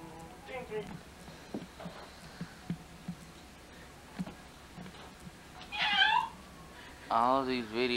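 A cat meows a few times, with faint thumps and light voices around it; the last cries are louder and drawn out.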